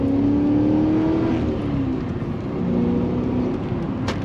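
A car with a 3-inch exhaust accelerates and revs hard, a loud, rising engine drone up close that eases slightly as the clutch is worked.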